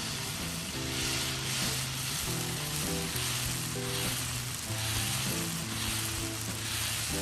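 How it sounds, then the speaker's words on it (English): Dosa batter spread on a hot pan sizzles and crackles steadily and loudly from start to finish, with soft music underneath. "take any dosa batter and spread it well on the pan."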